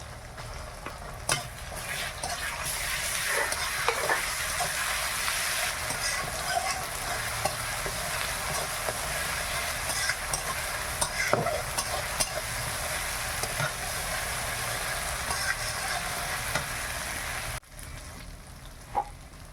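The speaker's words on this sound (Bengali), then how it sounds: "এবার আদা রসুনের পেস্টটা দিয়ে দিলাম।" Ginger garlic paste added to frying onion and tomato in a pan, a dense, even sizzle with occasional spoon scrapes and taps as it is stirred, close up with no talking.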